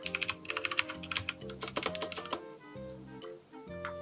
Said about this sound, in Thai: สัมผัสเวลาพิมพ์ก็ดีนะคะสำหรับคนที่ชอบ คีย์บอร์ดแบบเมคานิคอล